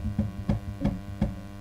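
Deep, round synthesizer bass plays four evenly spaced notes over a constant low hum, each note with a soft attack and a quick decay.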